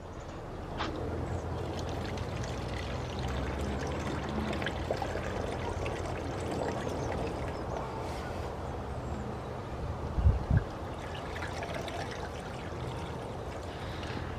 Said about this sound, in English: let's begin filling up with the deionized water